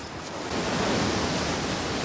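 Sea waves roll in as a steady, broad wash of surf that swells after a brief softer start and stays loud and even, with no voices.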